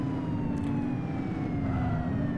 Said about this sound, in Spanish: Vale, enchufa la sirena.